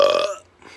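A single loud human burp, close and dry, fading out after a fraction of a second, followed by a faint trailing breathy noise.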